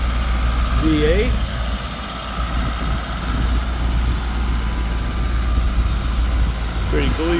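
A 1989 Chevrolet Camaro IROC-Z with a tuned port injected V8 idles steadily under an open hood, a loud, even low rumble with the AC compressor cycling on, while a person talks briefly near the start and end.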